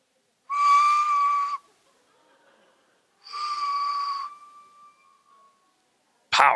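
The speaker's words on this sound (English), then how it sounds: "She's got a shrill whistle." A woman blows two long, shrill whistles, each about a second of piercing steady tone, separated by a pause, close and loud, with a quick sharp sound right at the end.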